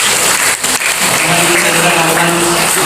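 Applause at a wedding ceremony, loud continuous clapping from the guests with a brief dip early on, while a voice or sustained tone carries faintly underneath.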